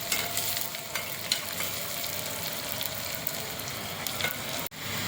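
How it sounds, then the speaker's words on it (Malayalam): Onions frying in a pan for goat leg soup give a continuous, close, bright sizzle with faint crackles and occasional stirring, steady throughout and alone without voices. "അപ്പം നമ്മുടെ ഉള്ളിയൊക്കെ പൊരിഞ്ഞിട്ടുണ്ട്"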